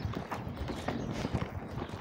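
A ridden horse's hooves clop in a repeated, even pattern, moderately near but softer, with faint background noise and no speech.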